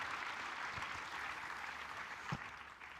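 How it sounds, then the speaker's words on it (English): Audience at a NORAD conference hall claps in a sustained, even burst of applause that fills the whole moment at moderate distance, without voices. "Give them all an applause."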